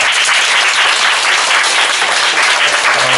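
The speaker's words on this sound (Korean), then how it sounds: "다시 한번 박수 하겠습니다." A church congregation applauding a young singer during a Sunday service: steady, dense clapping from many hands filling the room for about three seconds, with no voices over it.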